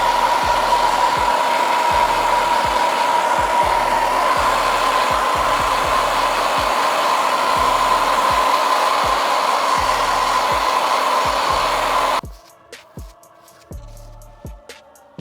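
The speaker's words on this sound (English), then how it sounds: "I'm gonna blow dry" A handheld hair dryer blows on hair at close range, a loud steady whooshing hum with a thin whine that runs unbroken for about twelve seconds, then cuts off, leaving quiet handling clicks and taps.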